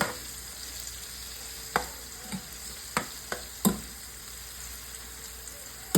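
Onions and seasonings sautéing in a pan for Southern-style liver gravy, a steady close sizzle with several sharp spoon taps and stirring knocks scattered through it, no voices.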